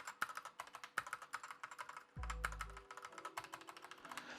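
Typing on a SteelSeries Apex 9 TKL keyboard with Optipoint switches: rapid, close clicky keystrokes in an uneven rhythm, with a heavier spacebar press that rattles and jiggles.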